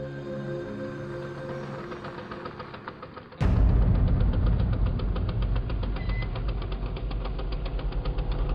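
A scooter engine idles and chugs with a rapid, uneven knocking pulse, then abruptly grows louder and rougher as it revs, running steadily and close with no voices.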